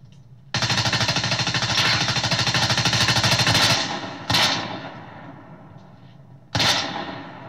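An SMG fires a long automatic burst in Fortnite, the rapid shots blurring into one loud, close rattle. Two shorter bursts follow after brief pauses.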